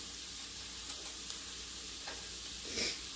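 Scrambled eggs sizzling in a pan while being slowly stirred, a faint continuous frying hiss with a few soft clicks and scrapes of the utensil.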